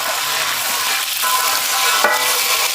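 Crushed shallots sizzle and fry in a pan at a village outdoor cooking setup, with a steady loud hiss and stirring scrapes, including one sharper clatter near the end.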